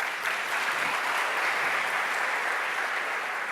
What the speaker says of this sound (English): Why don't we give another round of applause to Ashley for that talk?